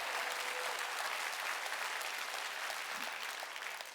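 A church congregation applauds during a Wednesday worship service: dense, steady clapping that fills the space, moderately distant, and fades slightly toward the end.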